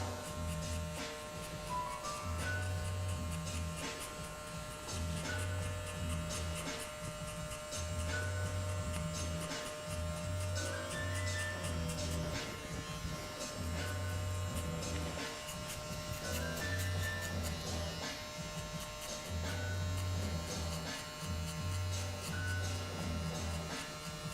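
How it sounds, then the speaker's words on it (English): An electric hair clipper fitted with a 1 guard cuts hair in a barbershop, giving a steady low buzz broken by short, regular bursts of heavier droning as it passes over the head. "So I'm going to use my 1 guard. With the clipper closed."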